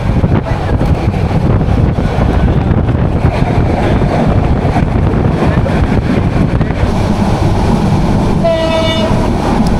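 The Paryatan Express passenger train rumbles loudly and continuously through Feni railway station, with heavy rolling clatter and wind buffeting, and a tonal horn blast sounds near the end.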